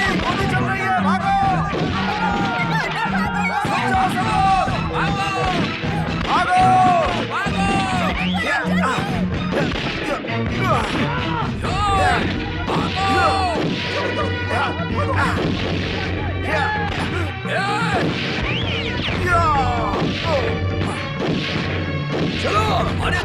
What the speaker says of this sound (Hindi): अरे गोली चल रही है